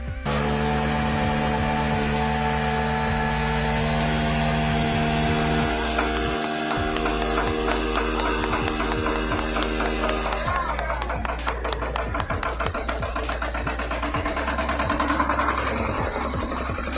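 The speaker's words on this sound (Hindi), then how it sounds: "इन लोगों ने जनरेटर को ऑन करने के लिए बाइक का इस्तेमाल क्या खूब किया है" A motorbike is used to crank and start a generator: a steady, tonal engine hum runs for several seconds, then gives way to a busier, rattling, clattering mechanical chug as the machinery keeps running up close.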